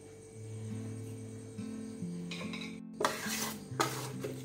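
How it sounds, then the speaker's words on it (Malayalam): Churned butter dropped into a frying pan to cook down into ghee, giving soft stirring and faint sizzling with light pan clinks, close and steady, no talking. "ഇതിൽ നിന്ന് നമുക്കിതൊരു ചീനച്ചട്ടിയിലോട്ട് ഇട്ട് കൊടുക്കാം"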